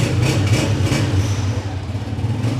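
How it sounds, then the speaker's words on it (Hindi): A Honda 125 motorcycle engine runs steadily at idle, a continuous low rumbling throb held close and loud for the whole stretch with no pauses. "अच्छे साउंड में बाइक बोल रही थी।"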